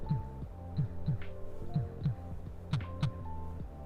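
A toy called Bug gives off a simulated heartbeat, heard close to the mic as a steady, regular lub-dub thumping with soft paired beats over a faint electronic hum.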